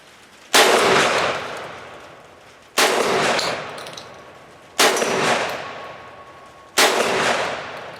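A Centurion BP-12 shotgun firing double-aught buckshot, four loud, close blasts spaced about two seconds apart, each sharp report trailing off in a long echoing decay.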